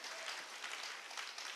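Faint, steady applause from a church congregation during a Sunday worship service, a soft continuous patter of many hands heard at a distance for a brief moment.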